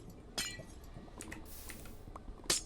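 A glowstone block breaks in Minecraft with a glassy clink, sharp brittle hits standing out at the start and end over faint background noise.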